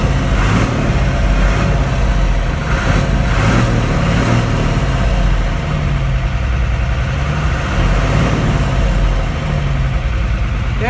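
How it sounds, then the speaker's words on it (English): The diesel engine of a 1975 Chevy stepside pickup truck runs steady and loud at a low, rumbling idle, with a few throttle blips rising and falling, close to the listener and with no talk. "that's about the throttle response I would expect from this engine"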